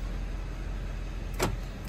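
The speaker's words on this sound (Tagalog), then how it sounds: "Pag tumapak sa brake, auto lock lahat ng doors" The doors of a Mitsubishi Montero lock automatically when the brake is pressed, giving one brief, sharp mechanical clunk over the low, steady hum inside the car.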